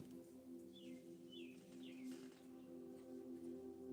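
Birds outside at night chirp a few short, faint, rising calls over a steady low hum in a quiet room.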